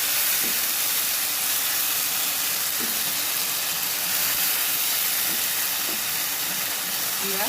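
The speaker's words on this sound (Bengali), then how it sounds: "মাংসগুলো দিয়ে আমরা একটু কষাতে থাকবো" Chicken pieces sautéed in a pot with mixed meat spices for chicken biryani give a steady, loud, close hiss and sizzle, with faint clinks of stirring now and then and no talk.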